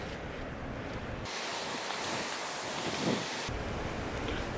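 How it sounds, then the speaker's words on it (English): Wind blows across an outdoor beehive during a hive inspection. It comes as loud, steady gusting noise that swells in the middle and rushes over the microphone. "It's really windy today."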